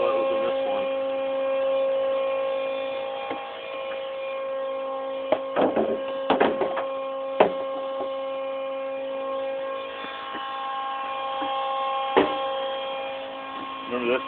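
A pump transferring waste vegetable oil between barrels hums steadily with a tonal electric drone, broken by a few clunks and knocks, and a voice talks over it at times.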